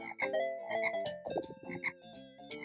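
Cartoonish frog croaks from The Lion King video game, a series of bright, tonal ribbits repeating in quick bursts over game music, loud and close with no talking.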